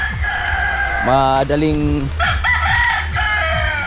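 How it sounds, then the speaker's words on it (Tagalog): Chickens cluck steadily near a Philippine farmyard while a rooster lets out a long crow, and a second crow follows shortly after. A person briefly talks over the birds. "Yan, tulad nito, mga manok, yan, manok."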